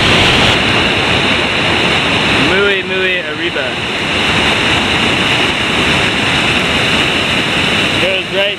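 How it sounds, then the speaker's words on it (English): A waterfall in a Costa Rica canyon roars with loud, constant rushing water and some wind buffeting, while a person speaks briefly over it and a few short vocal sounds rise above it. "Beautiful waterfall."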